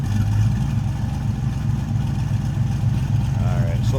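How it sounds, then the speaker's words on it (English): A 1966 Ford Mustang coupe's 289 V8 idles steadily through dual exhaust, a loud, continuous low rumble with a slight lope, heard close from behind the car. "Flip around to the back so you can hear this run. Dual exhaust, nice sounding 289."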